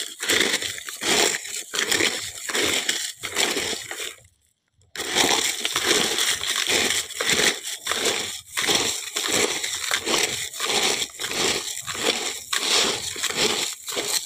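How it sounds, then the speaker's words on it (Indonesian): Eggshells are crushed by hand in a fast series of crackling, crunching bursts, close and loud, with one short pause partway through. "pertama-tama cangkang telur ini akan saya hancurkan terlebih dahulu menggunakan tangan saja"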